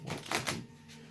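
Quick papery riffling of oracle cards being shuffled, a few soft flicks in close succession, heard alone and near.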